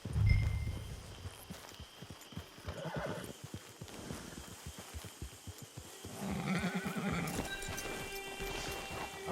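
A horse in the video game Red Dead Redemption 2 neighs loudly at the start and whinnies again later. Steady clip-clopping hooves fill the middle over a busy game soundscape.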